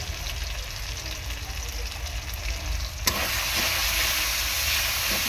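Turmeric and chili powder sizzle in hot oil, a steady crackling hiss that swells abruptly louder and brighter partway through, then holds at that fuller level.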